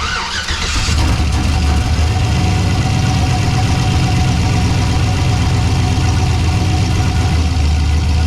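A turbocharged LSX-swapped Pontiac Ventura, being checked for a misfire, cranks briefly and fires up, then settles into a loud, steady, rumbling idle that continues without pause.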